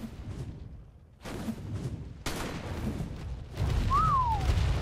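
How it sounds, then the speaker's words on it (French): A short rising-then-falling whistle, the command whistle to tamed Rex dinosaurs in the video game Ark on Crystal Isles, sounds near the end over a muffled low rumble and scattered thumps of game noise. "Ouais, je les ai sifflés."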